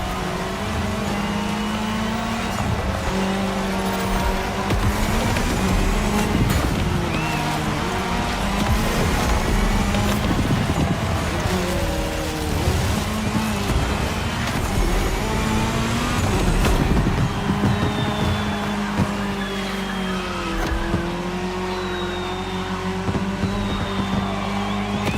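Race cars in a video game's cross-terrain race, driving on tarmac, engines revving and shifting pitch steadily and loudly, with several cars blending together in a continuous roar and no talking.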